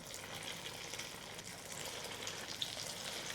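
Corn pakoda fritters frying in hot oil over medium-to-high heat, a steady dense crackle and hiss running throughout at moderate loudness with one brief brighter pop, no voices.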